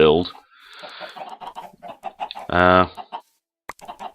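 Several chickens in the video game Thaumcraft cluck and chatter close by, with one louder drawn-out squawk partway through and a quiet gap near the end.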